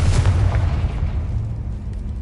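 A Confringo fire spell blasts in Hogwarts Legacy, a loud booming burst with a low rumbling tail that fades over about two seconds, no talking.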